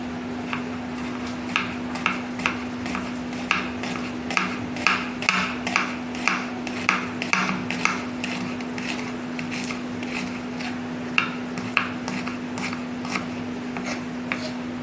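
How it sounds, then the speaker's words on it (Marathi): Repeated crisp chopping strokes of a knife through onion against a board, steady and close, with a constant low hum in the background. "5 ते 6 कांदे उभे चिरून घ्यायचे"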